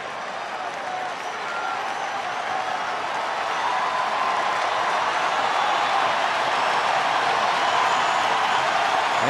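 A packed baseball stadium crowd of about 33,000 cheers and applauds in a dense, steady roar for Matt Kemp at Dodger Stadium in the bottom of the eighth, swelling slightly louder as it goes on, with no voices standing out.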